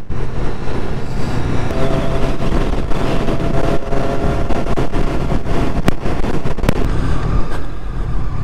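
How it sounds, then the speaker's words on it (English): Heavy wind buffeting roars over the microphone of a Triumph Street Triple RS motorcycle at speed on a motorway, a loud, continuous rushing blast with engine drone underneath and no voices. "there was a lot of wind there on the motorway"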